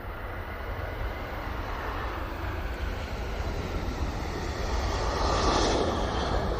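An EasyJet airliner passes at an airport, a steady broadband jet engine roar that holds level and swells slightly toward the end, heard alone without speech.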